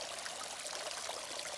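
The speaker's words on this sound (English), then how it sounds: "The little creek goes up and goes down over a number of little water breaks coming down." A small creek runs down over a series of little water breaks along a trail, giving a steady, close trickling and pouring babble with no talk.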